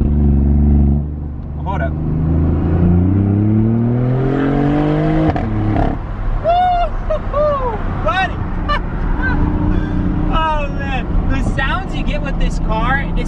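A BMW i8 with a Valvetronic full exhaust in sport mode revs up in a rising, climbing engine note, then settles into crackling pops and sputters, loud and close, with someone speaking briefly over it.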